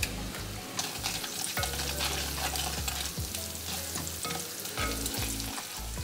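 Eggplant curry frying with turmeric and chili in a pan, a steady loud sizzle broken by repeated stirring scrapes and clatters, with no talking.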